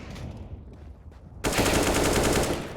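Rapid automatic gunfire bursts out in a CS:GO esports match, a sudden loud, dense stream of shots following a quieter stretch of in-game ambience, with no commentary over it.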